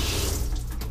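Steady rush of water spraying from a mobile shower head with an on-off switch in the bathroom of a 2014 Forest River Georgetown 351 DS fifth-wheel RV, continuous and close for the whole stretch.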